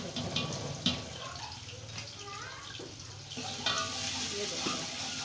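Green onions and chopped onions hit hot ghee in a pan, a soft steady sizzle and stirring rustle that grows denser partway through, with a voice talking faintly underneath.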